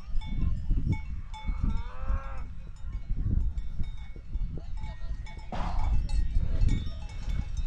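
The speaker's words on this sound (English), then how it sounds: "You hear all the bells from cows." Cowbells on cows grazing in the Dolomites clank irregularly across the mountain pasture, mixed with steady outdoor rumble and a couple of short animal calls.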